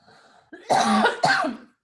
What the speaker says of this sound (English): I have to cough, and I've been holding my cough in for like 15 minutes.